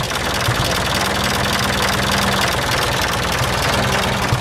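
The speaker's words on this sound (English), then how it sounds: "all you can hear is the valves. Hardly any exhaust." An Oliver 770 tractor engine idles at a steady, rapid rhythm, its valves clattering loudly over a soft exhaust, with no one speaking.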